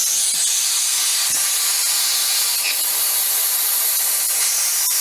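Vacuum tool drawing air through a coolant hose on a 1997 Honda Civic hatchback, a loud, unbroken hiss of rushing air close by with faint scattered knocks, no voices.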